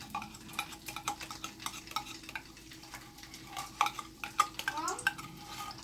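Squash and beef fry in hot oil for a Guyanese-style dish, a soft sizzle beneath repeated sharp clicks and scrapes of a utensil stirring against the pan.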